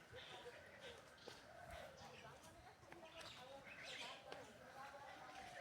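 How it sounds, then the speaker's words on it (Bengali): A dove calls across the countryside on a cool winter morning while other birds chirp and tweet around it, with a steady outdoor hum and faint voices in the background. "ওইদিকে ঘুঘু ডাকছে"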